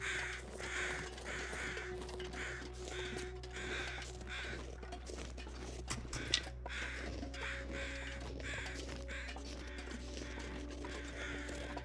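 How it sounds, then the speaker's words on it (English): Crows cawing repeatedly in the snowy wilderness of The Long Dark, a steady series of harsh calls over a low ambient wind drone, with no talking. "we're just gonna listen for crows"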